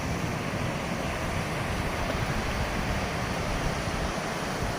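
Waterfall beside a small bridge near Sierra City on the Pacific Crest Trail, a steady broadband rush of falling water, close and continuous with no voices.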